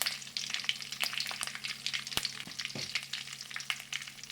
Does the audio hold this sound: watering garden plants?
no